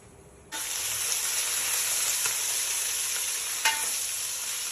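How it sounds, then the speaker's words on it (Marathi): Goat head (mundi) frying in a pan, a steady close sizzle that starts abruptly and holds, with faint stirring clicks and no talking. "हे बघा मुंडी फ्राय."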